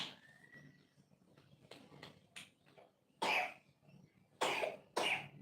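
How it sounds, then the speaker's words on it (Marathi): A child coughs three times in sharp, harsh bursts, spaced out over a few seconds in an otherwise quiet room with faint background sounds. "आमच्या बाळाला सर्दी खोकला झालाय"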